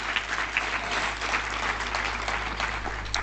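A church congregation applauds, a dense, steady wash of many hands clapping together throughout, with a low hum underneath.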